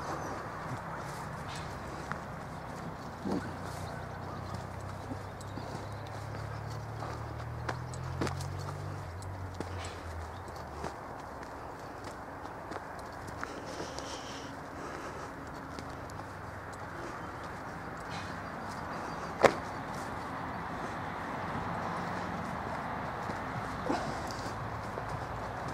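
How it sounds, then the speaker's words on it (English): Two horses walking beside a canal, their faint hoof clip-clops scattered through steady outdoor ambience, with occasional sharp knocks and a low rumble in the background. "And here are the horses."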